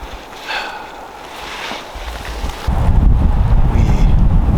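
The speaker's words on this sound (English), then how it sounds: "It's pretty windy up here right now" Wind gusting across a hilltop glassing spot during a Montana elk hunt, starting as a rough low rumble and buffeting into a louder, steady roar on the microphone partway through; no voices.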